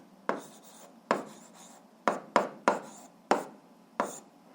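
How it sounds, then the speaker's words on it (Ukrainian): Hand writing out an answer to an 8th-grade algebra fraction exercise, a series of separate scratchy pen or chalk strokes at an irregular pace, close and clear with no talking. "а зараз записуємо відповідь, пишемо відповідь"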